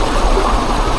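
Cold mountain stream water rushing steadily nearby at a forest eco park, a continuous even wash of flowing water with no voices.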